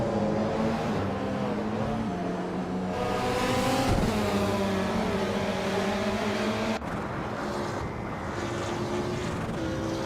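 Racing game Mazda RT24P prototype race cars accelerating, engines climbing in pitch through gear shifts, a loud steady roar with layered revving harmonics and a sharp change as one car passes.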